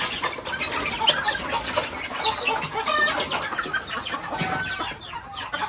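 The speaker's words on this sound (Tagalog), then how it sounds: "Mga kiti, mga manok." Chicks and adult chickens cluck and peep continuously at a farm in Guimba, Nueva Ecija, with busy overlapping calls and occasional wing flaps, fairly close and steady throughout.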